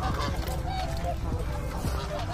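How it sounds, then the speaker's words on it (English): Geese honk repeatedly at a beach wildlife sanctuary where geese and ducks are being fed, the calls close and overlapping amid a busy flock, with faint voices in the background. "Lots of ducks, guys."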